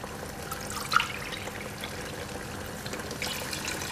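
Water is poured into a thick groundnut soup to loosen it, making a soft trickling, splashing pour that is fairly quiet and brief, with faint kitchen sounds around it.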